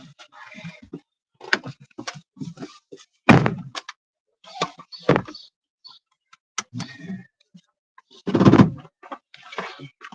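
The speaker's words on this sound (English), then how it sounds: "Open the back door for me." A back door is opened and shut, giving several sharp thunks and clicks scattered among quieter handling noises and a few faint voices.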